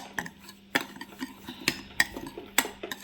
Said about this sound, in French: Je mets une pincée de poivre, du sel et un petit peu d'huile d'olive. Donc, je vais mélanger.